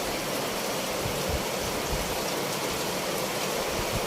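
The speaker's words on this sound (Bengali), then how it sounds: "এদিকে বৃষ্টি আরো ঢুকছে কারণ আমার জানালাটা এদিকে পুরো ভেঙে গেছে" Rain pours in through a broken window into a room, a steady dense hiss of falling water with no voices.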